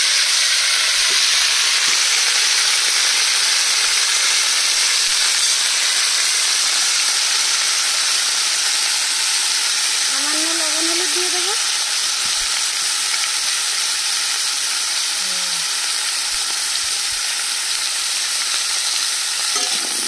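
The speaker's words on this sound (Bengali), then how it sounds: "ওলগুলো ভাজা হচ্ছে আর আমি এদিকে মশলাগুলো বেটে নেব" Elephant foot yam frying in a little oil in a wok, a steady bright sizzle running throughout, close and loud, with a brief spoken phrase partway through.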